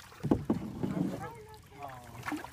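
Kids paddle a canoe on open water, with paddle strokes and light splashes near the mic amid wind noise, while voices call out over the rowing.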